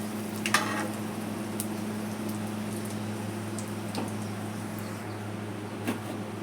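Cumin seeds, curry leaves and dried red chillies frying in hot oil for an Andhra stuffed brinjal curry, giving a steady low sizzle with a few brief crackles and stirring clicks, fairly quiet and alone.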